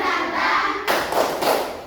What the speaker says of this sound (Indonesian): Mulai tepuk semangat.